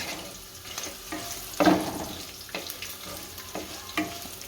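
Chana dal and urad dal roasting in hot oil in a pan, a soft continuous sizzle with scraping stirs and a louder stir stroke partway through, close with no voices.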